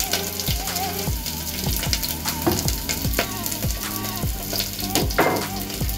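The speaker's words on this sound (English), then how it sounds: "I'm gonna go ahead and add my onion, garlic, and a bit of pepper." Onion, garlic and a small piece of pepper sizzle and crackle in a pot, a steady close frying hiss with repeated tapping stirs and pops, no voice over it.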